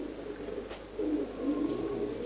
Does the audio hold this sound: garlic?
no